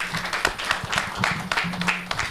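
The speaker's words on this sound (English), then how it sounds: "Let's clap for him, please." Audience clapping at a televised English-language interview, a fairly quiet patter of overlapping hand claps continuing steadily for a couple of seconds with no one talking over it.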